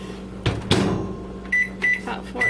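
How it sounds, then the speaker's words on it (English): Microwave oven softening a stick of butter, a door thunk and latch clicks followed by a low steady hum and a series of beeps, close by. "And put it in the microwave"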